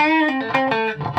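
A guitar played through the distortion channel of a Vox VT20+ amp, a brief run of a few sustained, harmonically rich overdriven notes, loud and close with no talk.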